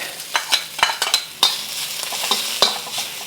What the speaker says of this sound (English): I'm going to add my ginger and garlic.